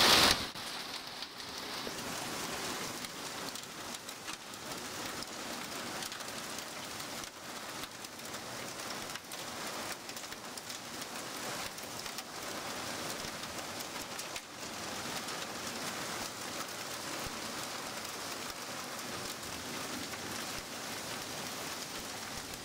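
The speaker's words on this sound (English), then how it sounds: "yay Florida storm." Steady rain from a Florida storm pours down on outdoor surfaces, a constant soft hiss of drops lasting throughout without any voices.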